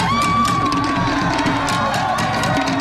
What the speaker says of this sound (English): They're screaming the warrior chant.